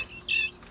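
A guinea fowl on a homestead gives a brief, shrill squawking call, two sharp high bursts close by in under a second, with no talking.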